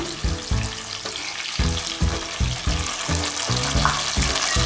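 Curry leaves and tomatoes sautéing in oil for an oily brinjal kuzhambu, a steady close sizzle broken by regular rhythmic bursts of stirring and scraping in the pan, with no talk.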